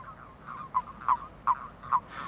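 Male frogs or toads croak in a breeding gathering, with four short, fairly loud calls spaced about every half second over a softer continuous chorus.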